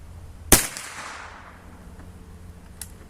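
An original 1892 Winchester rifle chambered in 32-20 fires a single loud, sharp shot at an outdoor range, followed by a fading echo and a faint distant report.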